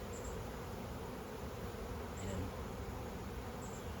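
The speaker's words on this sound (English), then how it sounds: "You see them fanning their little butts, pumping out that pheromone at the entrance there." A steady, faint hum of honeybees fanning their wings at a hive entrance, a dense continuous buzz with occasional louder passes of individual bees close by.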